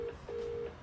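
A phone keypad sounds two short, clear dialing beeps in quick succession, faint and alone.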